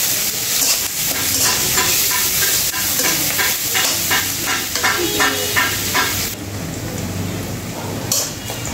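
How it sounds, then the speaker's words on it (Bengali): Sliced onions being stirred and fried in a pan for chicken kosha, a loud, close sizzle with rhythmic scraping strokes of the spatula that thins out briefly near the end. "পেঁয়াজগুলো এখন নাড়াচাড়া করে আমি সুন্দর করে ভেজে নেব।"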